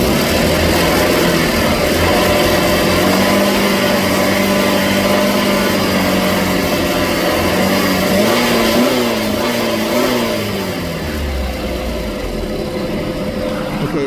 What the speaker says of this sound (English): Now I'm just going to go ahead and rev the engine for you.